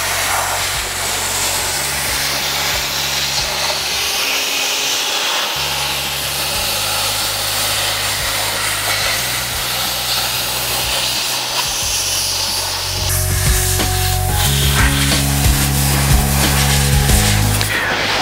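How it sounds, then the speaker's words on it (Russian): Compressor air gun blowing out the edges of a car's front bumper while fitting LLumar polyurethane paint protection film, a loud continuous hiss with machine hum that swells louder near the end, no talk. "обязательно необходимо продуть компрессором все края"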